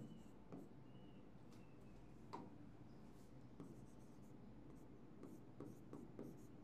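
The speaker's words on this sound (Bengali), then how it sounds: "তাহলে এখানে আমরা লিখলাম" Pen or marker strokes scratch across a board during an organic chemistry lesson, a quiet run of short scrapes and taps with pauses between, close and alone over a low room hum.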